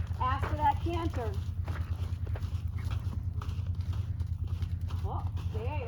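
Horse hooves clip-clop in a steady rhythm as a horse moves around a cone into a canter during a riding lesson, with a low rumbling hum underneath and a person talking over the footfalls.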